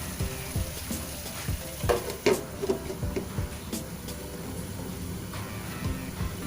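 Pieces of chicken for adobo fry in a pan with a low, continuous sizzle and scattered light ticks and pops. The sound is fairly quiet and close, with a few sharper clicks in the middle and no voice.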